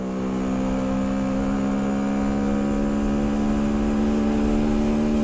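Small 50cc Bullit Hero motorbike engine running steadily while riding, a constant buzzing drone with strong even harmonics, close and loud throughout with no change in pitch.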